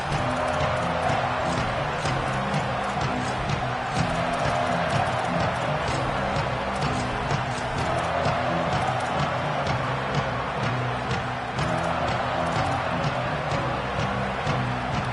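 A stadium crowd at a football game gives a dense, steady roar and murmur throughout, with scattered louder shouts rising out of the broad wash of noise.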